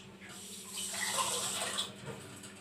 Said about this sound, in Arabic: أدي كمان حطينا كوبايتين مية، هنحط كمان نص كوباية